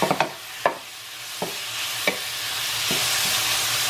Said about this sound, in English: it's been 4 minutes and my chicken has been cooking